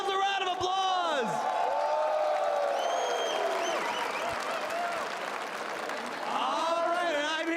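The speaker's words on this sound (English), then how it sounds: "Give yourselves a round of applause." A crowd at a gaming event breaks into sustained applause with scattered whoops and cheers, while an announcer's voice rises over the clapping.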